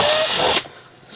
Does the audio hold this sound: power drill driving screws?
yes